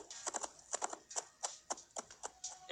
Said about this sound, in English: The sound of the horse is also very cool